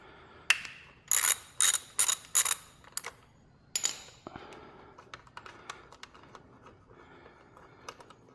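A ratchet wrench with a 10 mm socket backs a bracket bolt off a Yamaha XT225 motorcycle frame, sounding as a few sharp, rapid ratcheting bursts close by, followed by quieter scattered clicks and taps.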